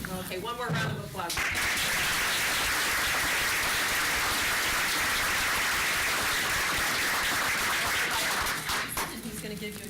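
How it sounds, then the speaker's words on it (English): A school board meeting audience gives a round of applause, a loud, dense, steady clapping that fills the room for several seconds with a few voices mixed in. "Okay, one more round of applause."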